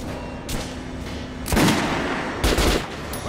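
Weapons firing at a shooting range in Metro Last Light Redux: two or three loud, close gunshot bursts with a sharp crack and short rumbling decay, separated by quieter gaps.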